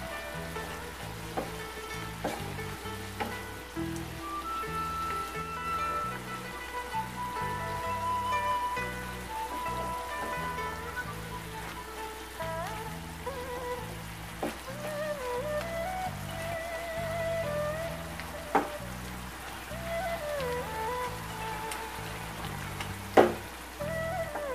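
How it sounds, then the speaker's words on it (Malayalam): Prawns frying in hot oil while being stirred, a continuous crackling sizzle with scattered pops and occasional scraping stir sounds, fairly quiet and close, no voices. "ഒരഞ്ച് മിനിറ്റ് സമയം ഇത് എണ്ണയിലിട്ടൊന്ന് ഇളക്കിയെടുക്കാം"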